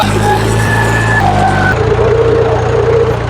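A tractor engine strains under load with a loud, continuous droning hum whose pitch steps and shifts as it labours, close and unbroken across the whole stretch.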